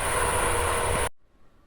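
Loud, steady mechanical roar of milling machinery cutting nearby, a dense continuous grind that stops abruptly after about a second, leaving faint quiet.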